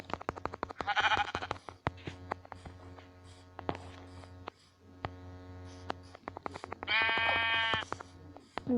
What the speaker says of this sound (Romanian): Ce pumni îmi dă la oaie.